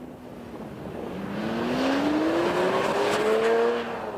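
A Lamborghini sports car driven by its chief test driver, Valentino Balboni, revs hard, its loud engine note climbing steadily in pitch as it accelerates, with no talking.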